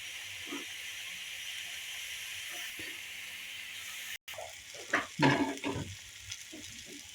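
Potatoes frying in a pan for egg biryani give a steady low sizzle with occasional stirring scrapes, getting busier and louder toward the end.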